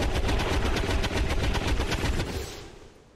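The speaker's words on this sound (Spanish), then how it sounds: "Con todos esos disparos de reacción" A sustained stream of rapid reaction gunfire in the video game XCOM 2 rattles loudly and evenly for about two seconds, then tapers off into fading reverberation.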